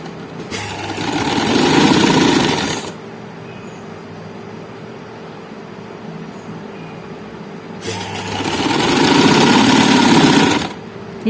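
A sewing machine runs two bursts of stitching along a double-folded edge of a frock's fabric, each a close, steady mechanical whir of a few seconds separated by a quiet pause.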